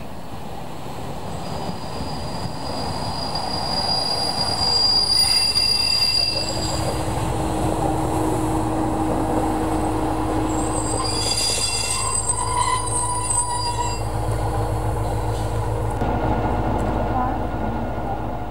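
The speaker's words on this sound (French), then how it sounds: "Le démarrage des 2800 au bruit si caractéristique donne toujours une indéniable sensation de puissance et de souplesse" A diesel railcar train (two X-2800 railcars flanking two trailers) pulls away with a rising mechanical roar, high squealing tones from the wheels and rails, and steady rolling rumble; no clear speech.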